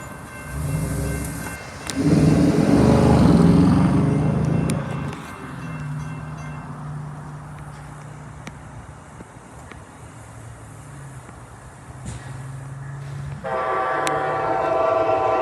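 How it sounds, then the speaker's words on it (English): An Amtrak or CSX train roars past close by at high speed, a loud rush that swells and fades, with a short horn blast toward the end. "I could see that this train was clearly doing a much higher speed than the previous one."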